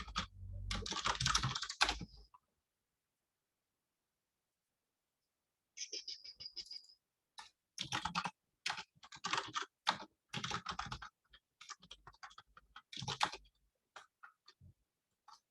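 Close keystrokes clatter on a MacBook keyboard in quick uneven bursts, with a long silent pause early on.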